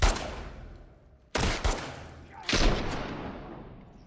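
Gunfire in The Last of Us Part II comes as a loud opening shot, then two sharp close blasts in quick succession and another heavy shot that rings out and decays, with a voice faintly under it.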